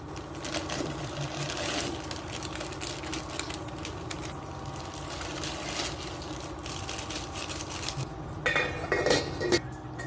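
Clattering pot and utensil sounds from noodles and two eggs being cooked in a pot with garlic and ginger, a steady busy clink and scrape throughout with a louder burst of metallic knocks near the end.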